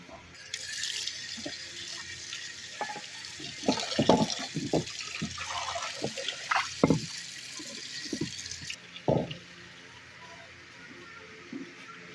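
Mortar and pestle washed under running water, a loud rushing tap stream over several seconds with scattered knocks and clatters of the stone vessel, a voice speaking intermittently in between.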